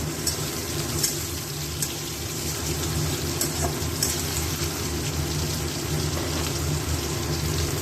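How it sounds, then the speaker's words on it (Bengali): A continuous, even sizzle of onions frying in a pan for a chicken curry, crackling softly with occasional sharper pops and no talking. "পেঁয়াজটা একটু একটু ভাজা ভাজা মোটামুটি হয়ে গেছে"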